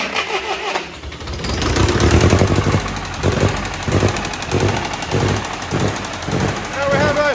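An old engine that has sat unused for over 20 years cranks, fires and settles into a loud, rough, chugging idle with rapid tappety knocking, while someone speaks briefly over it.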